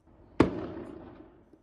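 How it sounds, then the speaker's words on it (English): A single sharp firework blast in the middle of the night around Bradford, loud and sudden, then a long rumbling decay and a faint pop at the end. "fireworks blast around Bradford"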